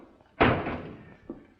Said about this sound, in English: Hey, careful of that door.